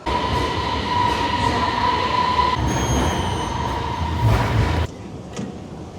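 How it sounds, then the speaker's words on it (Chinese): A Beijing subway Line 8 metro train rumbles loudly through the tunnel, with a steady tonal whine and wheel squeal, then a brief burst of noise before the sound drops off abruptly. "我们今天要坐这个8号线"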